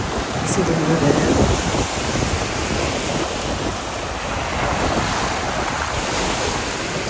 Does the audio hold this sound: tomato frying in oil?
no